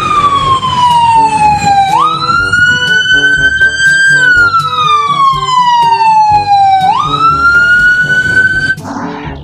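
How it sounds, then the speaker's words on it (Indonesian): A toy police car and ambulance wailing a loud electronic siren that sweeps slowly up and down in pitch over several cycles, with faint background sounds beneath it. "Yang ini ada mobil polisi ambulans."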